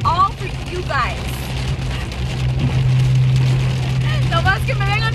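Rain falls outdoors in an open field near Denver with a steady, close patter, while a low engine hum runs underneath and people talk briefly at the start and near the end.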